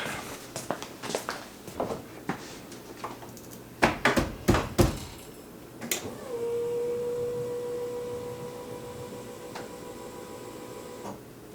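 A 1986 Nissan 300ZX fuel pump primes with a steady electric whine lasting several seconds, following a series of sharp clicks and knocks.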